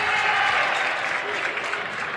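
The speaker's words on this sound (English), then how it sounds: "It's a great crowd here today." A large crowd at a high school basketball game, Wahpeton Huskies against Breckenridge Cowboys, claps steadily. The applause is dense and loud, with some speech mixed in.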